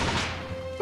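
Sharp crack of a firework going off like a gunshot in The Great Ace Attorney 2: Resolve, a single close burst with a fading rumble and a bright chime at the end.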